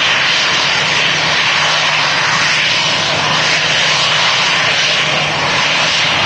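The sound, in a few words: Emirates airliner taxiing across the runway at Manchester Airport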